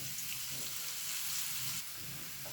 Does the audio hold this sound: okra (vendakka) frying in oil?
yes